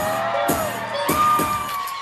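A crowd whoops and cheers at a youth street dance festival in Pingtung, Taiwan, with sharp shouts and bangs over a steady music-like drone, lively and close.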